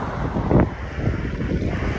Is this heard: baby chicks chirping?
no